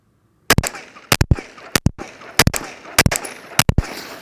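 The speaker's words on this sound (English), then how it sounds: "now I'm going to fire" A pistol fitted with a red dot sight fires about eight sharp, loud shots in quick pairs and bursts, each crack followed by a short echoing tail.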